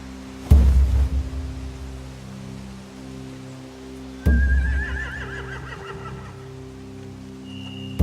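Two loud horse whinnies from The Walking Dead: The Final Season video game, each starting abruptly and trailing off, with a steady low background hum between them.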